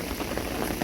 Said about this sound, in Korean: 지금도 이제 소나기가 좀 더 거세지는데 이렇게 리듬을 타는 거죠.